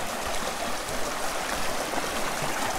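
A rain-swollen river beside the Lost Valley campsite in the San Rafael Wilderness, Los Padres National Forest, rushes in a steady, full hiss of flowing water, close and constant throughout with no voices.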